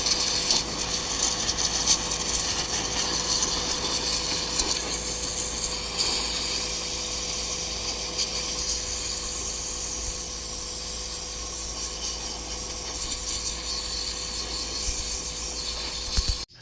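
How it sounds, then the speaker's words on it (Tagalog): A pressure washer blasts paint off a motorcycle crankcase with a constant loud hissing spray, steady and unbroken for the whole stretch before cutting off at the end. "Ayan, pressure washer."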